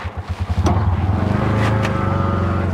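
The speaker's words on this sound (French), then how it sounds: "Je vais dire que c'est plein de motos." Motorcycle engines in a busy Mexican street, a loud rumbling putter that pulses at the start, then settles into a steady close drone with a brief higher whine passing through.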